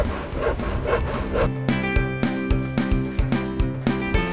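A wooden fish-shaped kite piece is sanded by hand with quick, rhythmic rasping strokes, then music with a steady beat takes over.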